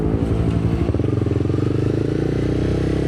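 A 250cc single-cylinder sport motorcycle on the road, its engine a loud, steady low throb with a clattery pulsing rhythm as it rides along, held at an even pace with no voices.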